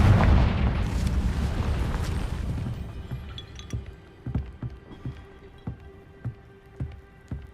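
A Confringo spell explosion in Hogwarts Legacy, one loud rumbling blast that fades over a few seconds, followed by a series of small scattered crackles and pops like falling debris.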